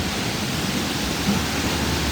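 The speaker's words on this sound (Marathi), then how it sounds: "2 मिनिटं पाण्याचा आवाज ऐका." Bridge Creek waterfall in Canada pours steadily, a dense, even roar of falling water filling the scene from close by, unbroken and with no talking.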